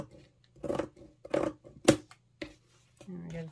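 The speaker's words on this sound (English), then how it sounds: "And then we're going to cut this edge." Scissors cutting fabric pieces for a no-sew garden gnome, a few short close snips and crunches in quick bursts, with a brief voice near the end.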